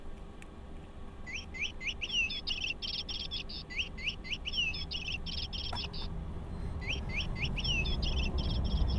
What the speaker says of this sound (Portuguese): Não, é o papagaio. Ó,